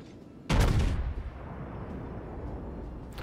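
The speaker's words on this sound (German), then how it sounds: "Schuss ist raus, er wird angezündet" A single heavy warship gun blast in World of Warships erupts suddenly, loud and booming, then rolls off into a long rumbling decay beneath a steady background hum.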